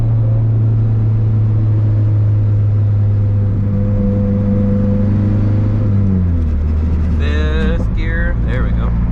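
A race car engine cruising in fifth gear: a loud, steady droning hum that shifts pitch partway through, with a brief higher whine near the end.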